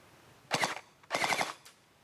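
An XShot Hyper Gel Blaster toy gun fires two rapid full-auto bursts close by, each about a quarter to half second long with a tight rattling stream of shots, followed by a brief third pop, with no talking.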